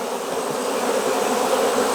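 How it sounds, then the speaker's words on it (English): Constant, even droning of honey bees around an opened hive during a July inspection, close and fairly loud, with no breaks or voices. "Oh yeah, not a lot of bees."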